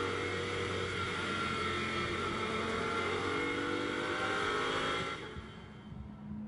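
Lamborghini Super Trofeo race cars idle and rumble while queued on the Nürburgring circuit during a 2020 European race, a loud steady engine drone that abruptly thins toward the end.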